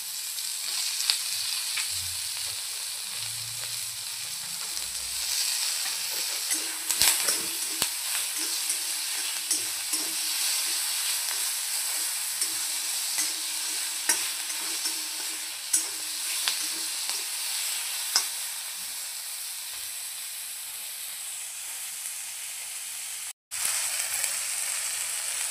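Onion and tomato fry in a pan for paneer chilli masala, giving a steady, close sizzle and crackle that runs unbroken for the whole stretch with no voices over it.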